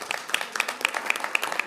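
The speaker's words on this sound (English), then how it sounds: "could I have a round of applause for CDOT?" A brief patter of scattered clapping from a small group, fairly soft and irregular, with no voices.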